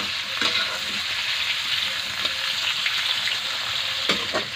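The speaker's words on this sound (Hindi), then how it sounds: "इसको भी इसी तरह दो मिनट चला चला के भून के फिर मसाला डालेंगे।" Badhar flowers stir-fry in a hot pan, giving a continuous bright sizzle with occasional scraping stirs, close and steady throughout.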